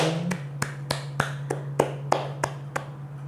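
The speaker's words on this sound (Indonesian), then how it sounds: "Yuk beri tepuk tangan untuk Ani, Sean, dan Dini" Scattered classroom clapping for three students, heard as a sparse series of about nine distinct, evenly spaced claps over a steady low hum, with no talking.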